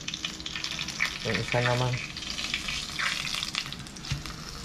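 Hot oil sizzles and crackles steadily as flour-coated tilapia fries, beneath a person speaking, with a brief clatter of a utensil near the middle.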